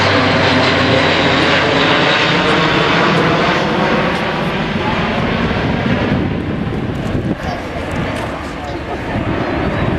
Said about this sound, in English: the Airbus Military A400M, now known as the Atlas